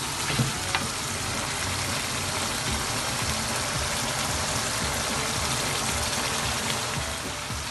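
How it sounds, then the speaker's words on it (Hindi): Rice with chickpeas and potatoes frying in a pot, giving a steady, dense sizzle with a few faint stirring scrapes, close and continuous throughout without speech. "मैं थोड़ा सा भून के फिर इसमें पानी डालूँगी।"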